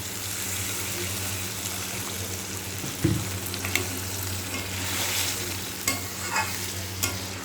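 Pointed gourd curry bubbles and sizzles in a pan of oil and spices as a little water is added, a steady hiss with soft clinks of a spatula and occasional sharper spits, heard close with no talking.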